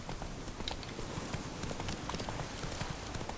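Horse hooves clip-clop steadily in The Witcher 3 video game, a continuous rhythmic trotting patter with no talk over it.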